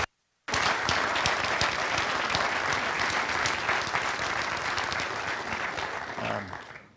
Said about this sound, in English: let's give him a round of applause one more time